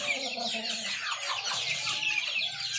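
Native chickens cluck and chatter together in a backyard flock, a busy overlapping mix of short calls heard close up with no talking.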